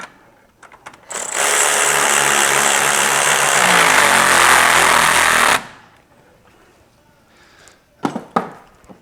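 A power wrench, likely an impact or air tool, runs a 17 mm nut onto a tie rod end on a 1957 VW Beetle, giving a loud, steady whir for about four seconds, followed by a few clanks of tools.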